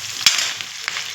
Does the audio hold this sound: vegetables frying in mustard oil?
yes